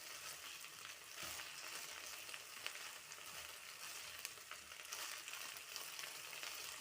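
Half a kilo of split okra sautéing in hot oil, a steady dense sizzle that holds evenly throughout with faint scrapes of stirring, fairly close and with no voices.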